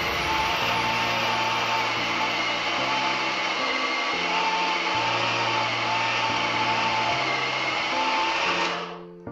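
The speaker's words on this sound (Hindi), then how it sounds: "मैंने इसमें कीमा ऐड कर दिया चॉपर में अपने। अब हम इसको पीसेंगे।" A steady, droning whine from an electric chopper grinding minced meat for galouti kebab runs continuously at close range, with its pitch shifting slightly before cutting off at the end.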